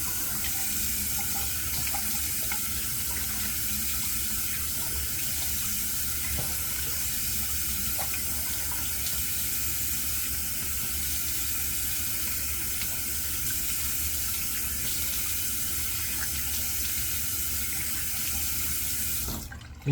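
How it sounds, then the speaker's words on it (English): Tap water runs steadily into a bathroom sink as someone rinses off after a shave, a constant broadband rush that holds close and even for the whole stretch with no talking. "Let me rinse off real quick."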